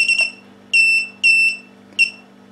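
A quick double chirp from a TANGO 2 quadcopter, then three sharp electronic warning beeps, two long and one short, signalling a fault, over a faint low hum.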